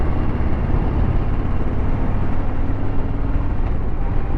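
A Harley-Davidson Sport Glide 107 motorcycle engine rumbles steadily while riding, a deep continuous drone mixed with wind roar, loud and unbroken throughout.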